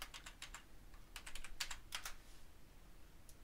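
Quick bursts of computer keyboard typing, clusters of crisp key clicks with short pauses between, close and quiet over a faint background hiss.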